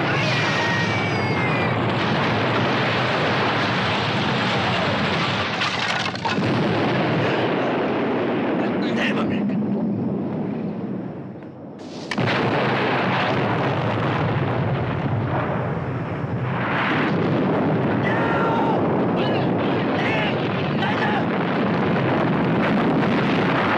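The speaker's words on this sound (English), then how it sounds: "It's a bomb." Bomb blast and its roaring aftermath in an action movie scene, a loud sustained wall of explosive rumble and debris noise with a brief drop midway, voices shouting over the din.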